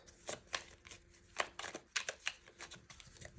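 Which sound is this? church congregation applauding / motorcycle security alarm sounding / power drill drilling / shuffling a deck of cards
shuffling a deck of cards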